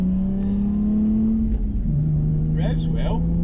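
A Lexus IS200 engine holds a steady, loud drone during a drift test, dipping in pitch as revs fall and then holding again, with a voice speaking briefly near the end.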